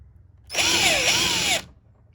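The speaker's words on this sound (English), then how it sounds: "Now we can drill this hole out bigger through this other side" A power drill whirs loudly for about a second while enlarging a hole on a Pontiac G8 GT, its motor pitch dipping and rising as it bites in, then stops abruptly.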